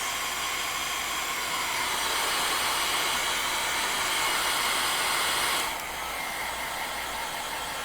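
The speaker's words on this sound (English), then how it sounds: "I'm going to give these a quick dry." A hair dryer blows steadily to dry chalk artwork, a loud, close, continuous whooshing hiss that shifts slightly in tone near the end.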